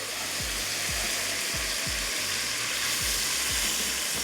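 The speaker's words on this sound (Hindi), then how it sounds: "तो इसमें मैं ऐड कर देती हूँ पानी" Steady loud sizzling and frying hiss as water is added to frying spices, with repeated low thuds of stirring spaced through it, continuous and close.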